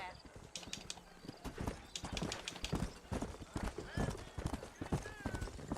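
Horse hooves clip-clop at a steady gallop in the Western game Red Dead Redemption, with occasional neighs and whinnies, running continuously and fairly loud beneath talking voices.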